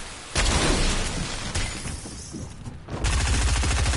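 Rapid gunfire bursts in a Fortnite match, loud and dense with sharp onsets, a brief lull before another volley, no voices over it.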